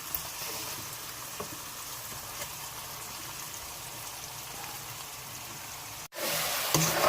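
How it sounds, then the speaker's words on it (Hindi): Chicken frying with masala in oil in a handi gives a steady, close hiss and sizzle, broken by a brief cut near the end before the sizzling resumes. "ये देखें, अब हम इसको भून रहे हैं अच्छे तरीके से।"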